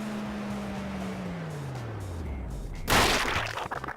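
A car in the video game Turbo Dismount accelerating with a steady engine drone that dips in pitch, then slamming into something with a loud crash and burst of shattering debris near the end.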